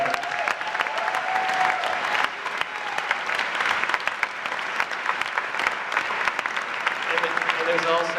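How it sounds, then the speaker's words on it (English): An audience at a San Francisco film festival Q&A applauds the cast and crew, a dense, steady clapping that fills the room and holds evenly throughout, with a faint tone briefly audible early on. "give a big shout out to them right now and a hand of applause to all of them"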